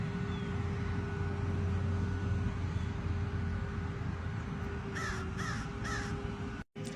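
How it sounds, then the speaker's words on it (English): Several crows caw in a short series of harsh calls, moderately close, over a steady low background hum with no talk. "Look at the crows."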